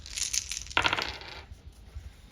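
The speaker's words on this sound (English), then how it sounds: "We'll just get 6 dice, and we'll see what all their hit points are." Six dice rolled together onto a tabletop during an Original Dungeons & Dragons game, a short burst of clattering rattles and taps that settles quickly, with no talk over it.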